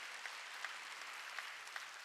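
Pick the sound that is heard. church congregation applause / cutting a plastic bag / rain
church congregation applause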